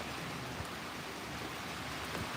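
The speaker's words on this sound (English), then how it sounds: "it's pouring rain right now" Heavy rain pours down in the Philippines, a soft, even wash of steady hiss with no clear breaks, low and distant-sounding throughout.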